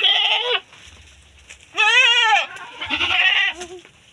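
A female goat bleats at close range, three loud wavering calls separated by short quiet gaps, the middle one longest and most tremulous.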